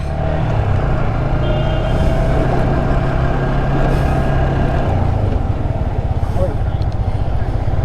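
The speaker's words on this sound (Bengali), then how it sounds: "এক গিয়ারে উঠাইতে হবে বাইক" A motorbike grinds in first gear up the steep final five kilometres of the road to Sajek, giving a constant heavy low engine drone with rumble, close and loud throughout.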